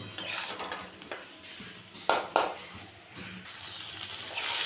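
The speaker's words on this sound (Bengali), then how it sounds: "এখন আমি একটু ভালো করে মিশিয়ে নেব" Spiced eggplant and tengra fish being mixed in a pan over a low flame, a utensil scraping and knocking against the pan in a few sharp strokes over a soft, low sizzle, close with no talking.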